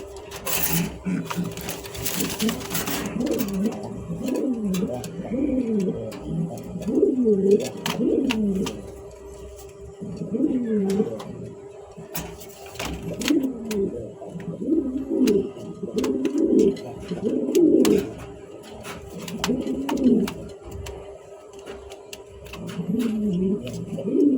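Several black King pigeons of a breeding pair coo in repeated rhythmic bursts, close and fairly loud, with a low steady background hum throughout.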